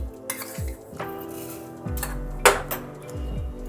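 A spoon scrapes and clinks against a metal kadai as two spoonfuls of sugar go in, with several sharp metallic knocks and taps at close range and no talking.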